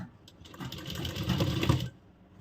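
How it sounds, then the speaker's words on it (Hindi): Sewing machine stitching fabric for a Banarasi party-wear suit kurti, one steady run of rapid mechanical stitching lasting under two seconds, close and moderately loud, with quiet before and after. "और यहाँ हम सिलाई शुरू कर देंगे।"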